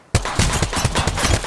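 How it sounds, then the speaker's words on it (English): Rapid automatic gunfire in Apex Legends bursting in suddenly, a close, loud string of evenly spaced shots with punchy low thumps, continuous for over a second. "Taking fire!"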